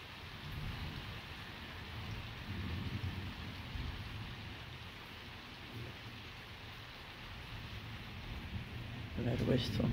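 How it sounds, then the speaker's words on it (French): Steady rain pours down continuously during a strong nighttime electrical thunderstorm, a dense hiss with low rumbling underneath, and a brief louder burst near the end. "Ça se remet à pleuvoir."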